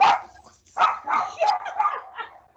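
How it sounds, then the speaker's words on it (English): Several dogs bark and yip excitedly in a rapid, uneven series at a workshop during honey extraction, moderately close and loud, with no speech over the barking. "the dogs heard him, and now they're barking"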